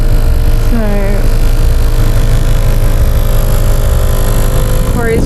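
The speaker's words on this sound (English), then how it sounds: "Corey's just pumping it up right now" An air pump inflates a flat car tire at a gorge camping area along an outback road, giving a steady, unbroken mechanical drone throughout, with a few faint chirps over it.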